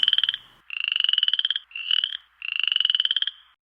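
Frogs croak in rapid pulsing trills, several bursts in a row with short pauses between, loud and close with nothing else heard.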